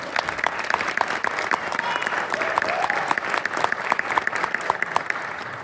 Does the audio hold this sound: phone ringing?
no